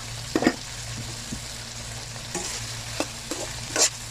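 Spices and bay leaves fry in a pan with a low continuous sizzle, broken by occasional scraping knocks of stirring, close and moderately loud.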